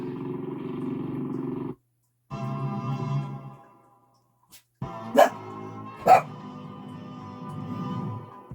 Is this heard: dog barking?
yes